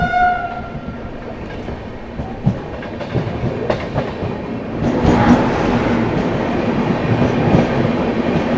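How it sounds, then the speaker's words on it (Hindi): Meerut City–Subedarganj Sangam Express train on Indian railway tracks, a rumbling approach with a short horn note early, then loud wheel clatter and roar as carriages pass close by, without talk. "ये आ गई दोस्तों मेरठ सिटी सूबेदारगंज संगम एक्सप्रेस।"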